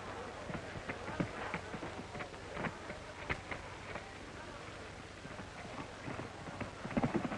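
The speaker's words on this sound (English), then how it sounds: "Mr. Tom Ford and his horse Champion" Steady clip-clopping of horse hooves at a trotting rhythm, moderately close, with a low background hum and no talking.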